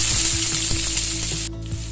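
Potato pieces sizzle and fry in hot oil with cumin seeds, a loud, continuous crackling hiss with faint stirring knocks, heard up close and without any talking.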